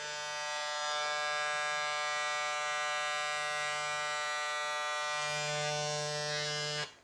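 A Gamma+ X-Ergo hair clipper runs continuously with a loud, steady electric buzz and a bright harmonic whine. The hum shifts slightly partway through, then it cuts off at the end.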